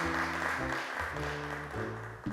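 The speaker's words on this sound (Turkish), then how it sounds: "Onu alkışlarla yerine uğurluyoruz" Studio audience applause on a children's TV show as a young girl returns to her seat; steady, fairly loud clapping runs throughout over a tonal musical backing.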